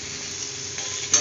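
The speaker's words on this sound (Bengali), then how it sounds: "ভালো করে ভেজে নেবো আলুর সঙ্গে।" Ginger paste frying with potatoes in hot oil for a vegetarian cauliflower and chickpea dish, a close, steady sizzle with light stirring and a small clatter near the end.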